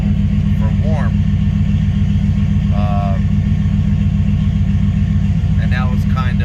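A warm Chevrolet S10 pickup idles near 780 rpm with a steady, loud, close low rumble throughout, while someone talks over it now and then.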